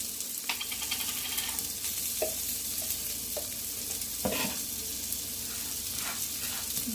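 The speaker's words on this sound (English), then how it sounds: "my buns are almost done toasting" Burger buns toast on a griddle with a quiet, steady sizzle, dotted with a few soft pops and scrapes, faint and close with no talking.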